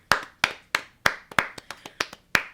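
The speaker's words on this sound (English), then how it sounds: "The Substance. What do you think about it? Round of applause." A few people clap for a horror film in a podcast setting, about nine distinct sharp claps in a loose, uneven rhythm, close and fairly loud with no voices.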